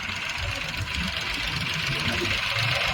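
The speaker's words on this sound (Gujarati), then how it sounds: "આવે ટ્રેક્ટર જો" A tractor engine runs steadily throughout while sowing black gram in a field, a continuous rumbling drone with a hissy upper layer and no pauses.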